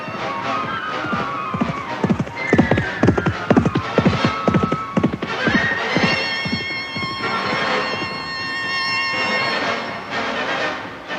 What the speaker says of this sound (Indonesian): keduanya naik ke punggung kuda, lalu pergi